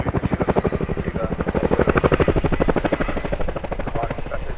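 A Chinook twin-rotor helicopter at the Cosford Airshow 2024, a loud, close, rapid rhythmic rotor thumping with broadband engine roar, steady throughout, with a voice faintly under it.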